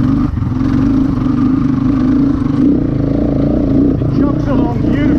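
A GPX 250e motorcycle runs steadily in third gear with an even, chugging mid-pitched engine drone close to the microphone, while a rider talks over it.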